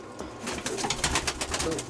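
Pigeons cooing close by in a loft, a steady run of soft repeated coos with no talk over them.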